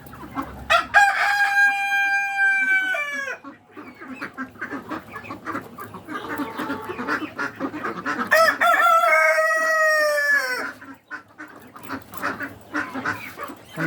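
Domestic ducks leaving their cage together, loud overlapping quacking and honking calls in bursts, close by, with no voices.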